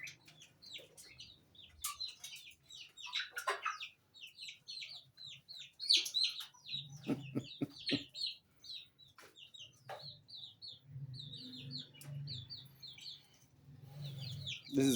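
Turkeys and chickens on a poultry farm cluck and chirp, with many short calls scattered throughout, while lower gobbling bursts rise and fall in the background.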